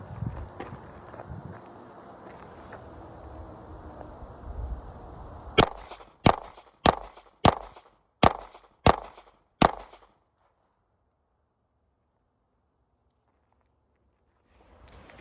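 Seven sharp pistol shots from a Glock 19 clone at the Cedar Mills range, fired at an even pace in close succession after a stretch of outdoor background noise, then silence.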